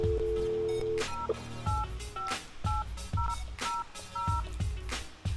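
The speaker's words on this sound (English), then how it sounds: "If all else fails, here's what you can do. Dial a phone." A phone being dialed produces a series of touch-tone DTMF beeps, roughly evenly spaced, each short, steady and fairly loud, with soft clicks and thumps from the button presses underneath.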